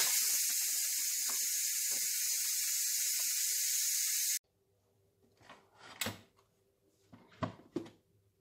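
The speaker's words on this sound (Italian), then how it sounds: "E facciamo sfiatare la pentola." Loud, steady hiss of steam venting from an electric pressure cooker cooking pasta and eggs, rushing out for several seconds, then cutting off abruptly, followed by soft clunks and handling sounds.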